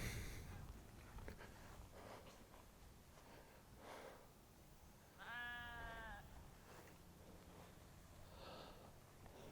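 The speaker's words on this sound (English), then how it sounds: "Here's some sheep." Quiet outdoor ambience with wind in a field at Old World Wisconsin, Eagle, Wisconsin, then one wavering sheep bleat from a short distance partway through, and a faint snort afterward.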